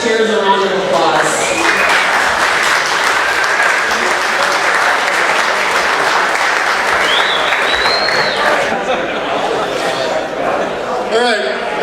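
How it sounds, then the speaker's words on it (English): An audience claps steadily in sustained, loud applause for volunteers at a Wounded Warriors United Wisconsin event, with a few whistles and light crowd murmur mixed in. "So let's give our volunteers a round of applause."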